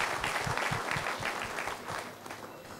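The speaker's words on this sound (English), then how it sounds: "I want another round of applause." Round of applause from the audience at a national HR convention and expo, honouring a woman mentioned by the expert speaker: brisk, full clapping that thins and fades toward the end.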